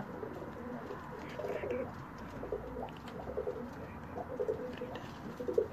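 Pigeons cooing softly in a repeated, rolling rhythm, several birds nearby, over a low steady background hum.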